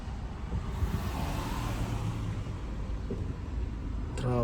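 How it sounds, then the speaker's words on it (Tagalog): Road traffic with cars driving past gives a steady, low, moderately quiet rumble that swells slightly as vehicles pass, with no talking. "Traffic."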